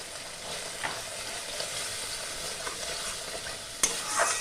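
Mustard-poppy paste with green chillies, salt and turmeric being stirred in a pan for shrimp bhapa, a soft continuous sizzle with faint scraping strokes and a sharp clink near the end, no voices.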